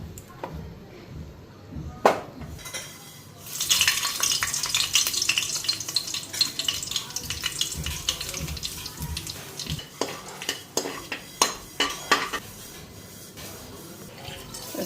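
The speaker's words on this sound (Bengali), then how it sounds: "হলুদটা তেলের মধ্যে দিয়ে দিলাম।" Nigella seeds, a dried red chili and turmeric frying in hot oil, a sizzle that flares up and continues with sharp clinks and scraping of stirring.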